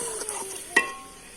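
Chicken with tomatoes and masala is stirred and fried in a pan, giving a brief soft sizzle with a light clink of the spoon partway through, quiet and close.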